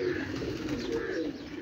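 Rooftop flying pigeons coo in soft, low, rolling calls, close and continuous, with a faint ambient hum beneath.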